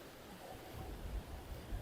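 Rough, restless sea at Odesa, with waves washing in as a steady low rumble of surf and faint wind, fairly quiet and unbroken, with no voices.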